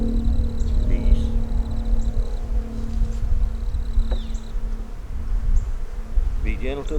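Dense, steady buzzing of many honeybees at an open hive of gentle, calm bees, close and continuous, with faint handling sounds near the end.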